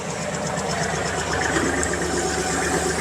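A Kubota GL-27 tractor engine runs steadily with the PTO engaged, a continuous close mechanical drone with a knocking diesel vibration and no pauses throughout.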